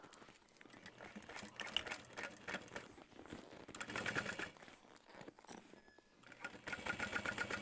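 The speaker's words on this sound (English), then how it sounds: "We're just going to top stitch at 1/8 of an inch all the way around." A sewing machine runs a quiet, soft whirring stitch as an eighth-inch top stitch is sewn around a foam-padded fabric project, steady with brief pauses and no talking.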